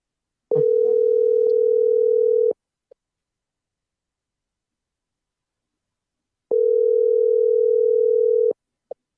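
Telephone ringback tone on a call line: two long, steady buzzing rings about six seconds apart, loud and close, with brief clicks after each and silence between.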